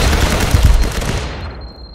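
Gunfire in the VR shooter Firewall Zero Hour comes as a loud, dense burst of rapid shots that rings out and fades over about two seconds, with no speech.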